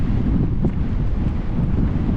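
Steady, loud wind noise rumbles against the microphone while biking outdoors, a continuous low buffeting roar with no voices.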